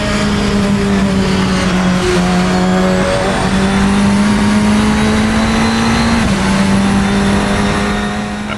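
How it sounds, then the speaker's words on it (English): An SR10 XXR race car in the Assetto Corsa racing game: a loud, sustained high-revving engine drone that holds steady with brief gear-change dips and rising pitch as the car passes close. "Such a great sounding car."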